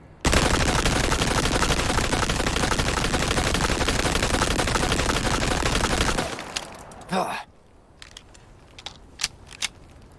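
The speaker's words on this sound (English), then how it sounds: "it only took 3 TMP shots to defeat the Ganado" TMP submachine gun firing in Resident Evil 4 Remake, a loud continuous rapid burst lasting about six seconds, then sharp scattered clicks and impacts.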